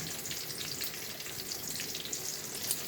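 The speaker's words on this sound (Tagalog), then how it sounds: "Pwedeng pagsamahin yung pagprito natin ng hipon sa katalong" Shrimp and eggplant sizzle and crackle steadily in hot oil, a continuous close frying hiss with small pops throughout.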